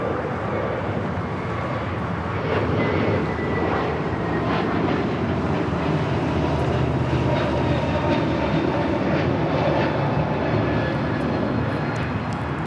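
A Spirit Airlines jet at Los Angeles International Airport roars with a loud, continuous engine rumble and whine that holds steady throughout, with no talking.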